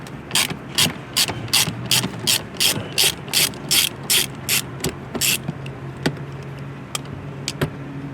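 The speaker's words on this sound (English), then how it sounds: "You can use a 10mm socket. And we're going to be reusing these fasteners." Ratchet with a 10mm socket working fasteners loose on a 2024-2025 BMW X5M Competition, a close run of rapid, regular clicking strokes, then a few slower isolated clicks as the wrenching winds down, no talk.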